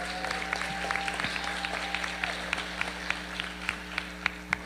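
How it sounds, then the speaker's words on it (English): Sparse, scattered clapping from a graduation audience honoring scholarship students at a high school ceremony, fairly faint and uneven, over a steady low hum. "Let's give those students a round of applause."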